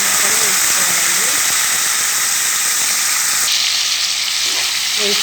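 Green chilies and tomato pieces sizzle in hot oil for an uggani baji, a broad steady frying hiss that fills the whole clip, shifting slightly partway through, with faint background tones but no clear speech.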